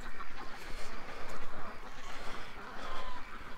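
Ducks quack in a rainy yard at day's end, their calls scattered and moderately close over a steady hiss of falling rain, with no one talking.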